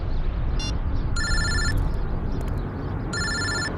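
A telephone rings in two electronic bursts over a loud, steady background rumble, no voices.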